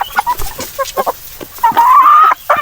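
Chickens cluck repeatedly in short, choppy bursts, with one drawn-out squawk, loud and close, as on a busy farmyard with ducks.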